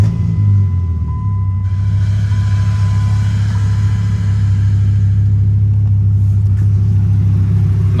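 A Viper truck with 104,000 miles on it idles after a fuel pump change, a loud, steady low engine drone with a constant hum, close and alone without speech.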